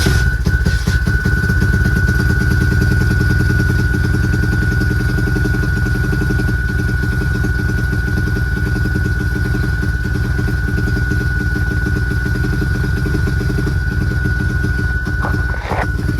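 A 140 dirt bike engine idles close and loud with a steady rapid putter and a constant whine riding over it, running evenly the whole time.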